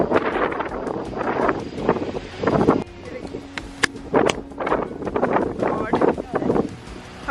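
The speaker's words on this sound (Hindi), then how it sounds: "बहुत हवा चल रही है।" Strong gusty wind buffets the microphone outdoors in a Kumaoni village in Uttarakhand, roaring loudly in uneven surges under someone speaking.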